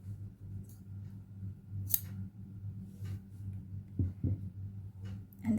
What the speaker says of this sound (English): I'll just cut the excess yarn.